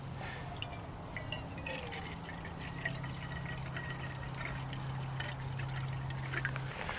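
Water is poured into a camping pot outdoors, a steady trickling and dripping stream with small splashes running continuously at moderate volume over a low background hum.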